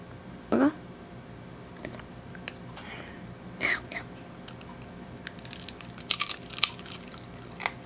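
A dachshund crunches a beef-wrapped dried anchovy treat, with a few sharp close bites spaced apart and a quicker cluster of crunches toward the end over a quiet background.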